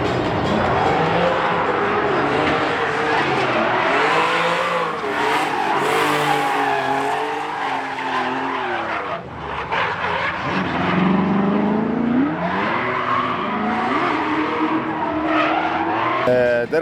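A drift car doing a smoky burnout at a drift track: the engine revs hard and rises and falls in long sweeps while the tires squeal and skid continuously, loud and close throughout.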